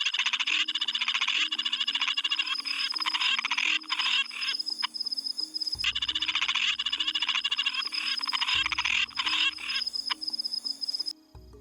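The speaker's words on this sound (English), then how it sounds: "check out this beast down here, the giant frog from Australia" Giant frog from Australia's Northern Territory croaking on a hot night, a loud, rapid pulsing call repeated in several long bouts, close and clear over steady insect hum.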